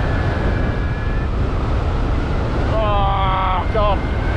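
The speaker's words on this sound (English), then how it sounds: "Getting caught out by strong wind here." Strong wind roaring across the microphone during a hang gliding flight at a national championship, a loud constant rush with a brief tonal whistle or beep heard partway through.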